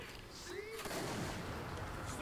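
Gunfire in the video game Gears of War: Ultimate Edition, a dense burst of shots and a sweeping whistle-like sound over a constant noisy game bed, moderately loud and continuous across the short stretch.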